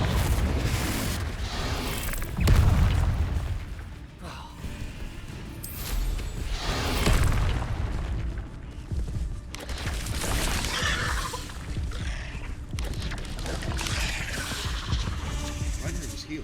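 A Confringo fire spell bursts in the video game Hogwarts Legacy, with a heavy booming blast followed by a dense rumble of crackling combat effects and impacts continuing at a fairly steady loudness.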